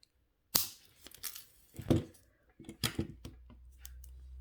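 Wire cutters snip through wires several times in sharp, close clicks and crunchy cuts, spaced irregularly over a few seconds in a quiet room, with a faint low hum near the end.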